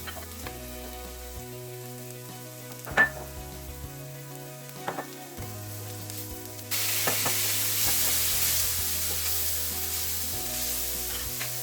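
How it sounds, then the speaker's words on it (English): Onion with fresh ginger and garlic sautés in a pan, with a soft sizzle and a few utensil clinks under a low, steady background hum; the sizzle grows louder and fuller in the second half. "sauté the onion along with fresh ginger and garlic to build those aromatic flavors"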